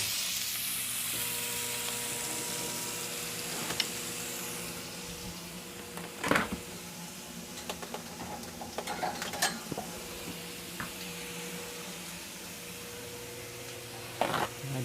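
Salmon sears in a hot pan with a steady, low sizzle and frying hiss, a few faint clinks of utensils or pan scattered throughout, no one speaking.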